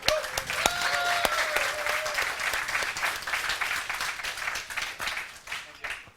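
Audience applause for Liquid Ret, winner of the DSCL Open 2015 StarCraft tournament final, steady dense clapping throughout with cheers and a few brief voices rising over it.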